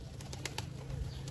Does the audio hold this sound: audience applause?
no